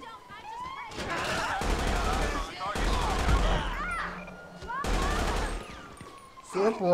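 Gunfire in the video game GTA 5 bursts out in three loud, dense volleys of rapid shots with short gaps between them, while someone talks over and between the bursts.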